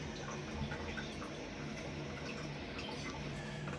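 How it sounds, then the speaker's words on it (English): Water rushes steadily into a toilet tank as it refills after a bidet sprayer installation, a constant hissing flow with faint trickling that stays unbroken and close throughout. "So now you can hear the water filling up in the back of the toilet."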